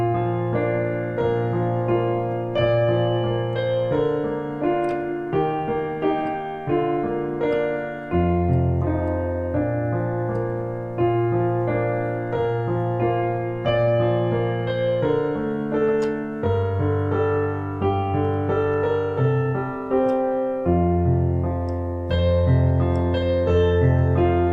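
Piano playing a Christmas carol at beginner level, with the melody in the right hand over open chords in a steady rhythm in the left hand. It plays continuously at moderate volume with no talking.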